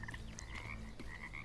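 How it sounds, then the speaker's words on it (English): A giant frog from the video game Bramble: The Mountain King croaks in deep, rumbling bursts with a brief higher chirp, a low resonant drone running underneath, close and fairly loud, no voices. "I think it's a giant frog."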